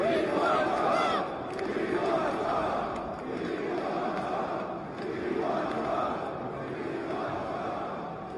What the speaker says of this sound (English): The crowd is chanting, "We want Trump."